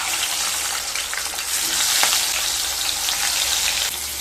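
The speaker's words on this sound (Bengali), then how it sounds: "এবার মাছগুলোকে ভেজে নেব।" Pieces of katla fish frying in hot mustard oil in a kadai, a dense, steady crackling sizzle heard close up with faint spatter bursts.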